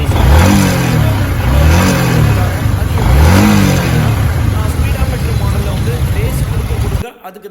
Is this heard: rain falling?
no